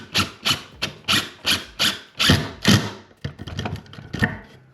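A screw is driven into wood while building a bench, giving a run of rhythmic grinding, rasping bursts up close, each pulse ending in a short pause before the next turn.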